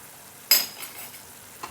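Tomato and harissa sauce frying in a pan, with a sharp burst of sizzle as it hits the hot surface, then a softer crackle fading away and a brief stir near the end.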